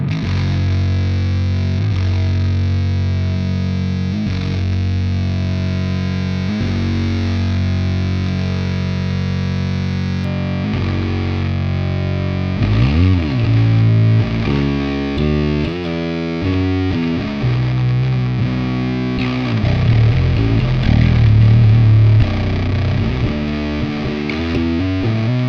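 Electric bass played through the STL Tonality Will Putney Suite amp sim with heavy distortion: a loud, continuous gritty riff, with low sustained notes giving way to busier, choppier playing in the second half, no voices.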